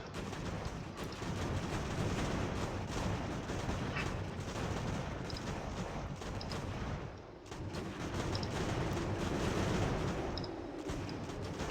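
Massed musket volleys from a battle in the strategy game Ultimate General: American Revolution, a dense continuous rumble of gunfire rolling on for the whole stretch with a brief dip midway, no talking.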